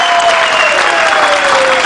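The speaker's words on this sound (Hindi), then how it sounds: "एक जोरदार तालियां इनके लिए" A studio audience at a televised dance performance show breaks into loud, dense applause that continues unbroken throughout, with some crowd noise mixed in.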